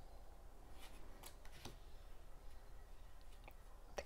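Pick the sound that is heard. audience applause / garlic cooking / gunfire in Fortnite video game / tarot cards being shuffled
tarot cards being shuffled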